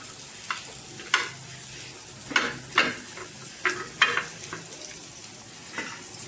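Prawns stirred into a sizzling masala in a pan, with a faint steady fry underneath and several sharp scraping knocks of a spoon against the pan at irregular intervals, close and moderately loud.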